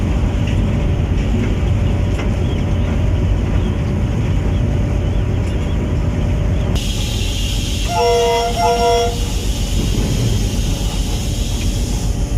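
Shah Latif Express train running steadily, heard from inside the cab, a continuous low rumble of wheels and engine with a brief cluster of higher squealing or whistling tones partway through. No voices.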